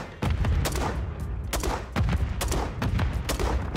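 Rapid bursts of gunfire in the Call of Duty Warzone video game, loud and close, with several sharp volleys and brief gaps between them.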